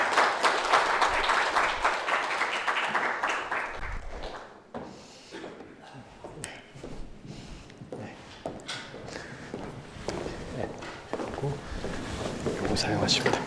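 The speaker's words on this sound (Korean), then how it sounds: "큰 박수로 신각수 차관님 모시도록 하겠습니다" An audience at a university forum lecture applauds to welcome a speaker, a dense burst of clapping that fades into scattered claps and shuffling, with a voice talking over it near the end.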